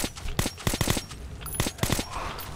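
Rapid bursts of weapon fire in the shooter game Metro 2033 Redux, clusters of sharp cracking shots with short pauses between, loud and close, no talk.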